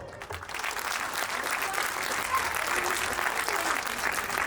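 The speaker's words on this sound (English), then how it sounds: "So let us give them a well-deserved round of applause" A school annual day audience applauds its teachers, a dense, even wash of clapping from a sizable crowd that holds steady throughout, without pause.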